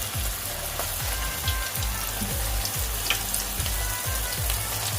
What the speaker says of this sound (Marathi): आपले जे मंचुरियन बॉल्स आहेत ते चांगल्या प्रकारे फ्राय होत आहेत